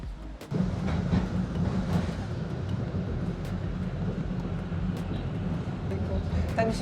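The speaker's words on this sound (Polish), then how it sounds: "No to teraz siadamy do tramwaju." A tram rides through the Katowice metropolitan area with a steady rolling rumble and faint rail clatter throughout, punctuated by a few sharp clicks, inside the car.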